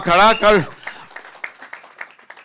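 After a brief burst of a voice, an audience at a movie teaser launch event breaks into scattered, moderately faint hand claps that continue unevenly to the end.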